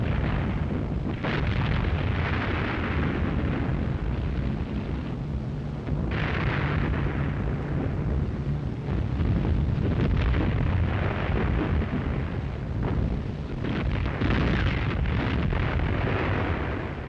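Heavy 12,000-pound bombs exploding on and around the battleship Tirpitz, heard as a continuous dense roar of blasts and rumbling booms that stays loud throughout with brief surges.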